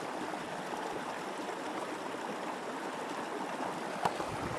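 River running past an eroding bank near St. Mary's Falls, a continuous, even rush of water with a single short knock near the end, with no one speaking.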